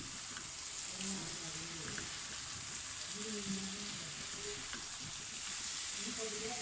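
Taro stem curry with fresh coriander leaves fries in a pan and gets stirred, a soft continuous sizzle with faint scraping, quiet and close, with some low murmuring in the background.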